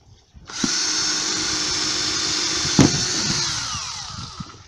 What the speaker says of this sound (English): drill some very fine holes at the side of the pond